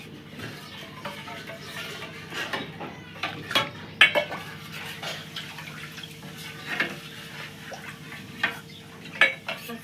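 A spoon scrapes and clinks against a metal pot while buttermilk and gram flour kadhi batter with salt and turmeric is stirred, giving irregular close knocks and scraping strokes with no talking.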